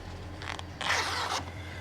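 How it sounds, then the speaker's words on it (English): Zipper on the rear window of a Jeep soft top being pulled in two quick strokes, a short rasp followed by a longer, louder one, close by with no talking. "Let's take the zipper over,"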